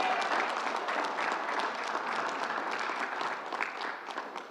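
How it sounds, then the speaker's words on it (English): Crowd applauding at an outdoor announcement by New York's governor in Rochdale Village, Queens, a steady wash of many hands clapping at even loudness, with no talk over it. "Let's give a big round of applause."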